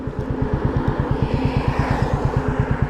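Harley-Davidson motorcycle engine idling or running close by on a winter road ride, a steady loud low pulsing throb with rapid even beats that holds throughout, no voices over it.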